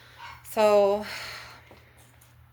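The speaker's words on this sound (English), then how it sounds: "I'm really sorry that the dog's barking" A caged dog lets out one loud, close bark with a brief tonal yelp, while a person's voice talks alongside over a low steady hum.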